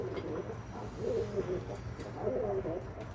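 Newly brought-home pigeons coo softly inside a temporary coop, with a few low rolling coos over a quiet background.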